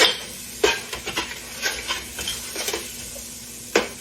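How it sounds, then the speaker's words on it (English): Butter, one to four sticks, melting in a pan for caramel cake icing, a soft sizzle under repeated clinks and scrapes of a utensil against the pan, close and fairly loud. "now I'm supposed to put in my butter, it says. 1 to 4 sticks of butter, and let that melt"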